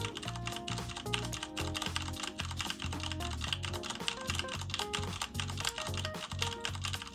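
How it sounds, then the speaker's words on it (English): Fast typing on a computer keyboard produces a close, continuous clatter of sharp key clicks in an uneven rhythm that carries on without pause for the whole stretch. "I'm gonna type my keyboard"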